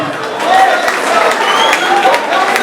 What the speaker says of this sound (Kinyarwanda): Fizo ndamuha mukomera amashyi n'ukuri